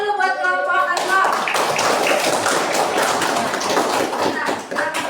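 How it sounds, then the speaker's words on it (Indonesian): Classroom applause for a student group: a burst of many hands clapping steadily and loudly, preceded by a brief spoken voice, filling the room for several seconds. "tepuk tangan buat kelompok"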